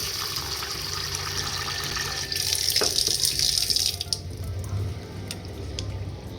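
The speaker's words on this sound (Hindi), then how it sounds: "तो अच्छे से धोना है दाल चावल को, एकदम बहुत अच्छे से हमें रगड़ रगड़ के धोना चाहिए।" Masoor lentils and rice are rinsed and rubbed by hand in water in a kitchen. Running water splashes and swishes steadily throughout, with a louder burst of sloshing in the middle, and nobody speaks.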